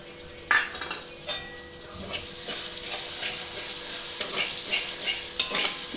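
A spice paste of turmeric, Kashmiri chilli and cumin powder mixed with water fries in a pan for Bengali-style chicken kosha. It sizzles steadily and crackles close by while a spoon stirs and scrapes against the pan, making intermittent clinks.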